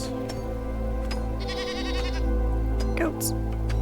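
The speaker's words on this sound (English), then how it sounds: "Goats." Goats bleating in the video game Enshrouded, a harmonic bleat in the middle and a sharper cry near the end, set over a steady game soundtrack hum with a voice talking at times.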